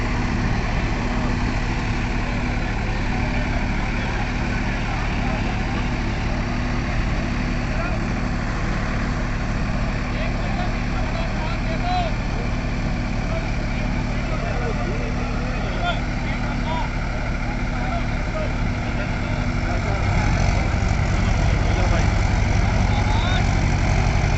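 A Mahindra 575 tractor engine holds a steady set RPM, a constant close diesel drone with a low rumble. Near the end it grows slightly louder.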